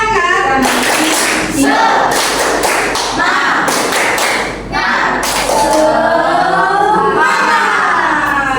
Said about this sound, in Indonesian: marilah kita nambah penyemangat kita dengan bertepuk. Tepuk semangat